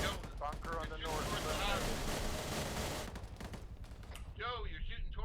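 Sustained video-game gunfire in a military island-assault shooter mission, with a dense rattle of rapid shots filling most of the stretch, then thinning near the end as voices talk over it.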